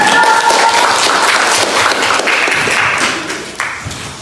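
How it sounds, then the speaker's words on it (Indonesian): A classroom of students applauds group 1 before their presentation, a loud, close burst of overlapping hand claps that gradually fades over a few seconds. "Tepuk tangan dulu untuk kelompok 1."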